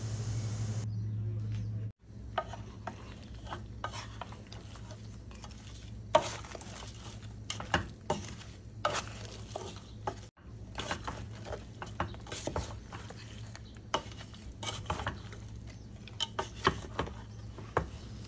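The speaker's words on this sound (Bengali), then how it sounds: "সব কিছু দিয়ে আমি খুব ভালো করে একটা কাঠির সাহায্যে ভালো করে নেড়ে চেড়ে নিচ্ছি" Beef with garam masala and olive oil is stirred with a wooden stick, heard as faint, irregular scraping and soft patter-like clicks over a quiet, steady background hum.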